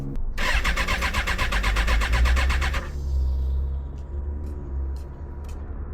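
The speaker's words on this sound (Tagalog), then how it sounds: "We're gonna test Pogi's track bike" A track motorcycle engine cranks and catches, with a loud rhythmic starter whir for about two and a half seconds, then settles into a steady low idle with faint ticks.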